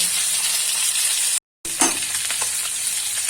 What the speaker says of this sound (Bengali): এই মাছ বেশি কড়া ভাজতে নেই, হালকাই ভাজতে হয়, তাই আমি হালকাভাবেই ভাজছি